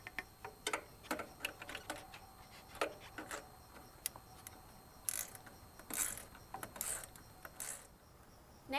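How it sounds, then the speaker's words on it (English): Repeated metallic clicking and ratcheting as a hose clamp is tightened around a car's turbo inlet, in quick irregular bursts close by with brief pauses between. "Next I'm going to tighten the clamp around the turbo"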